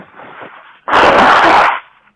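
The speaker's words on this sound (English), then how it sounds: "I had to blow my nose." A single loud, honking nose blow bursts out after a quieter stretch of muffled rustling, lasting under a second before trailing off.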